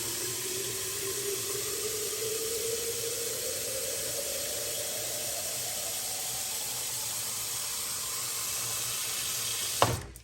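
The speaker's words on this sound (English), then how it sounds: "Now we got to fill that thing full of water." Tap water runs steadily into the plastic tank of a Jura ENA 4 coffee machine, a continuous hiss with a pitch that rises slowly as the tank fills, ending with a brief clunk.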